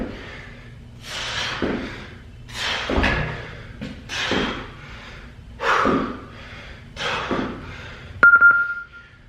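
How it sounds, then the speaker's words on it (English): Repeated thuds from a person landing skier jumps at a home workout, about seven rhythmic landings with heavy breathing and gasps between them, close and fairly loud. "This next one's skier jumps. When you jump and land, slowly resist down."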